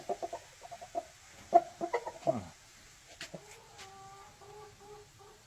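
A rooster clucks in short, scattered bursts close by, followed by a few longer drawn-out calls, with no talking.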